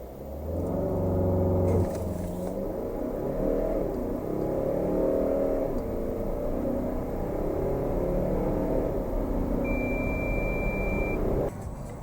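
Volvo V90 D5 Polestar diesel estate accelerating hard from standstill to 100 km/h, a steady close engine drone with rising gear-change surges throughout, plus a brief electronic beep near the end.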